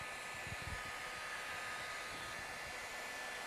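A heat gun blows steadily while warming the flat area and ridge of a vehicle panel's vinyl wrap, a faint, even airy hiss and whir with no break, and no voices.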